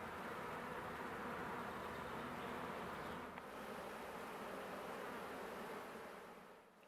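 A swarm of honey bees moves into a new nest-box hive, making a dense, continuous buzzing hum. The sound is steady and close, with no voices, and it fades slightly at the end.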